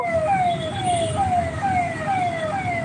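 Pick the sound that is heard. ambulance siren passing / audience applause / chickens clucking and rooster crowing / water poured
ambulance siren passing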